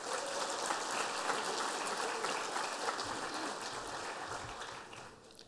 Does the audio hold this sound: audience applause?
yes